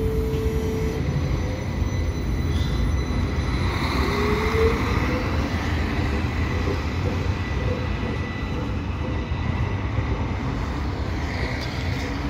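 Geneva TPG tram line 18 rolls into its terminus at Palette station: a steady low rumble of wheels and motor, heard from on board, with a faint rising whine partway through and no talk.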